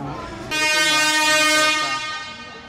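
Palembang LRT light rail train arriving at a station, a loud steady horn-like tone starting sharply and holding for over a second before easing off, with rumble underneath.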